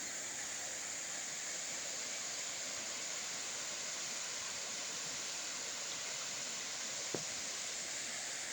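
A waterfall near Bulutota roars as a steady, even wash of rushing water, constant throughout with no talking.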